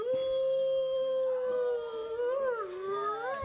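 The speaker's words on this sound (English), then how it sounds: "Sounds like a person howling. That definitely doesn't sound like a wolf." Long wavering howls, sustained and rising and falling in pitch, heard on their own as a steady, fairly faint eerie chorus during a Dungeons & Dragons game.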